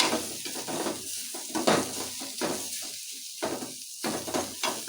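Vegetables and spices frying in a pan for a village-style greens sambar, sizzling in bursts with repeated scraping stirs and soft clinks of utensil on metal, close and fairly loud.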